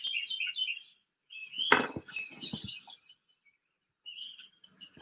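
Small birds chirp and tweet outdoors in the morning, bright high calls in short bursts with a pause in the middle, close and clear, alongside a few soft knocks and rustles.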